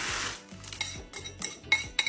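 Corn salad ingredients with mayonnaise being mixed in a bowl, a spoon scraping and clinking against the dish in a series of short, uneven strokes with no talking.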